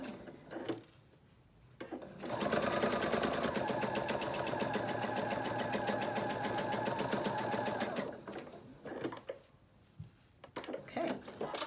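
A sewing machine hums through a long steady run of rapid even stitching as it sews sashing on a jewel quilt, with brief quieter handling noises before and after the run.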